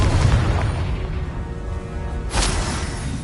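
A Confringo fire-blast spell explodes in Hogwarts Legacy: a heavy booming blast that rumbles and fades, followed by a sharp whooshing burst near the end.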